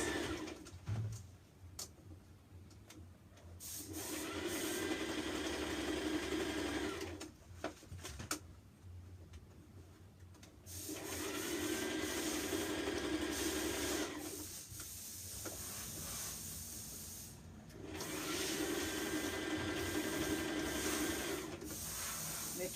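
A sewing machine stitches down the facing of a handmade dress in three long runs of steady motor whirring, separated by brief pauses.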